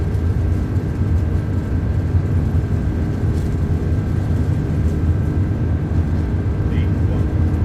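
Airbus A330 jet engines at takeoff power during the ground roll in MSFS 2024, a steady loud broadband roar with low rumble throughout, with a crosswind on the runway and a pilot talking over it.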